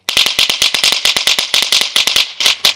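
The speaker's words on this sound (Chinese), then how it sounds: "这个声音还是非常大的， 非常的接近真正鞭炮的声音。" A large AC-powered electronic firecracker speaker plays a rapid string of loud, sharp, close cracks, an irregular burst of popping bangs like a real string of firecrackers.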